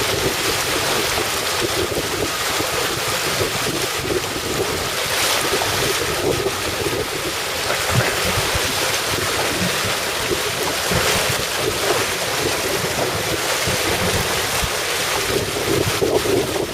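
An RS700 sailing dinghy tacking on Lake Garda, with loud, steady wind rush and water splashing against the hull throughout, no talking.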